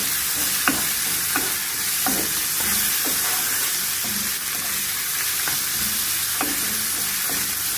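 Chicken breast pieces, sliced thin, sizzle steadily with onions in a pan while being stirred, with periodic scrapes and clicks of a utensil over a constant frying hiss; no talking.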